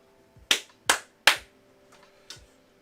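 Several sharp hand claps used to sync audio, three loud evenly spaced claps followed by a softer fourth, close and dry in a quiet room.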